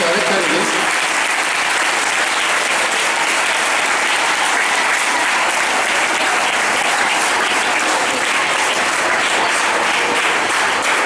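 Loud, steady applause from a school audience greeting a visiting swami as he arrives to address them, dense clapping filling the whole stretch without a break.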